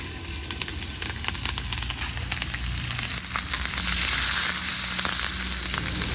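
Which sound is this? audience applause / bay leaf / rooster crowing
bay leaf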